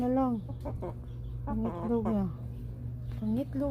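White chickens cluck close by in repeated short, rising calls, with a low steady hum in the background.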